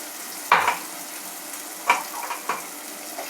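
Chilli and spice masala is stirred in hot oil for a fish head curry, a few distinct scraping strokes over a soft, low sizzle, with no voices.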